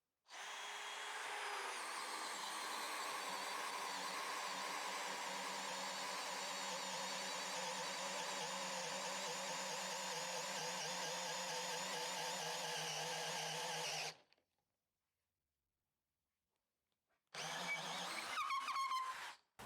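A DeWalt DCD708 18V brushless drill turns a 25 bit in first gear and holds a steady, loud motor whine for about fourteen seconds. It stops briefly, then starts again in a short second burst.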